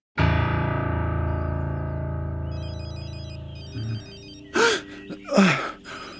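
A mobile phone rings in a German radio drama, starting as a long sustained electronic tone that slowly fades, with a short chirping ringtone pattern and a few breathy gasps near the end.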